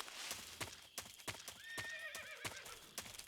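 A horse whinnies in the Metal Gear Solid 3 video game, a wavering high neigh rising over steady clip-clopping hoofbeats and sharp percussive ticks, moderately loud with no talking.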